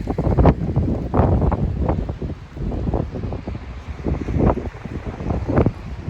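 Wind on a cloudy day by the coast at Swampscott, Massachusetts buffets the microphone in a steady, rumbling roar with gusty surges throughout, loud and close, with no voices.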